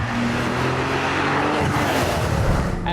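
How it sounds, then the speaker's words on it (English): A turbocharged supercar engine purring as the throttle closes, a steady loud low rumble heard from close by with a droning tone that drops slightly as the revs fall. "it makes this wonderful purring sound whenever I let off the gas"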